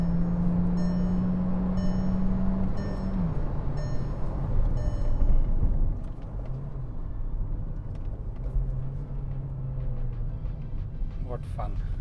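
Skoda Slavia 1.5 TSI sedan engine while driving: a steady low drone rising and falling in pitch through gear changes, with road rumble throughout and a voice talking over it.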